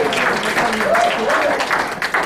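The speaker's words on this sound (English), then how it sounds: "How about a round of applause for the lovely Carrie, ladies and gentlemen?" Audience applause for a performer named Carrie at a Father's Day party for seniors in Canoga Park, a steady patter of clapping from a modest indoor crowd with a voice talking over it.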